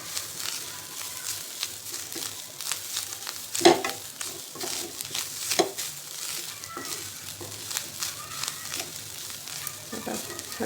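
Grated coconut heats in a pan for mango modak, giving a soft, steady sizzle with scraping stir strokes and occasional light clinks of a spoon against the pan.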